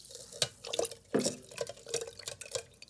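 Water poured into a homemade blood orange wine mixture, giving soft splashing and dripping with a few brighter pours and stirring sounds, close and moderately quiet, with no talk.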